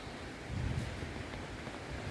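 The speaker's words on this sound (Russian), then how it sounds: "2-3 дня уже дует ветер." Strong wind blowing outdoors in a garden after a storm, roaring steadily into the microphone with rumbling gusts and a louder surge early on, no voices.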